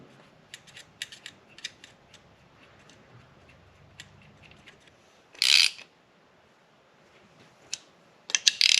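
A ratchet driving 10mm bolts on an LS 6.0 engine during assembly for a 1955 Buick swap, heard as light scattered ticks, then two short loud bursts of rapid clicking, near and with no talk.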